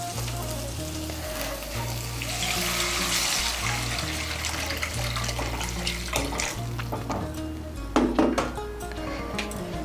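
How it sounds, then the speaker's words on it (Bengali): Two cups of hot water poured into a pan of potato curry for a vegetarian chhana dalna, a rushing splash that turns into a bubbling sizzle, close, with a sharp clatter near the end. "আমি এর মধ্যে 2 কাপ গরম জল দিচ্ছি।"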